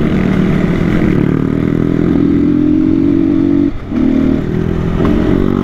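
Off-road motorcycle ride, a loud steady engine drone with rising revs and brief throttle dips, rattling and clattering over rough ground close to the rider.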